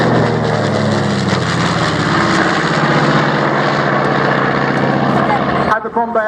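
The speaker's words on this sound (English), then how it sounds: "The aircraft was termed as a medium bomber" A propeller-driven medium bomber flies past at the Wings and Wheels airshow at Dunsfold, a loud, sustained, throbbing engine drone that cuts off sharply near the end.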